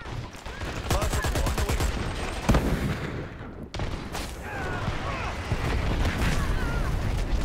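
Rapid automatic gunfire bursts and heavy blasts in the shooter video game Dirty Bomb, dense and loud near the start, then a sudden cut into continued crackling fire and explosions mixed with voices.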